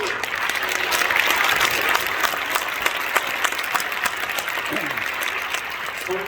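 An audience at the inauguration ceremony for a Gyeonggi church council president applauds to welcome the mayor of Suwon, Lee Jae-jun, with continuous hall-filling clapping that holds steady throughout and some faint voices underneath.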